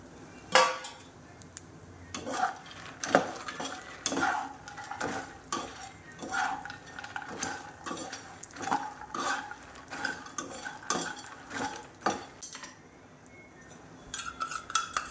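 Makhana chivda stirred in a pan for fasting snacks, repeated clinks and scrapes of a spoon against metal in an uneven rhythm, with a faint sizzle and no talk.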